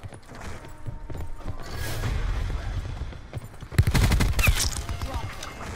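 Peacekeeper gun firing in a video game, rapid bursts of shots in quick succession that swell loudest near the end, layered over game background noise and a talking voice.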